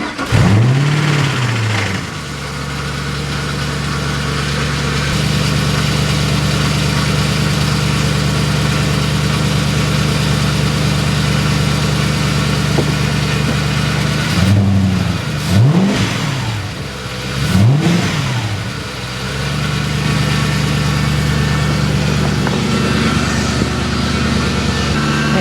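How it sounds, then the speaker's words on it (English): A Porsche 986 Boxster with a swapped-in V8 track engine cranks and catches, then settles into a steady loud idle, with two quick throttle blips partway through. "now it's a matter of starting it up and seeing if the thermostat will open"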